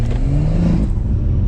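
A BMW M140i with a 440 bhp engine pulls away in Sport Plus mode with traction control off, a loud close engine drone rising briefly in pitch, without speech.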